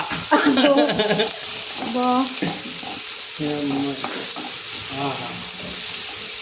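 Chicken butter masala sizzles hard over a high flame, with a bright steady frying hiss running throughout while a voice talks over it in bursts.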